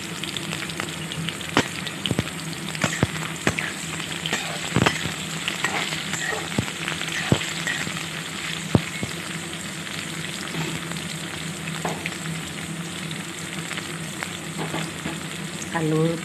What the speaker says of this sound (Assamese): আলুৰ পিচকেইটা এইদৰে তেলত আঁকি ভাজি ল'লে চব্জিখন খাই খুব ভাল লাগে